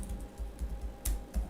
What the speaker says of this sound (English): And now I just type